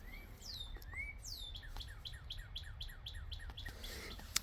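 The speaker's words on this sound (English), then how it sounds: "Hear the birds." Birds chirp in a quiet spot among tall tree roots forming a small cave within a city. Quick, repeated high tweets and sweeping calls ring out over soft low background rumble, with no voices.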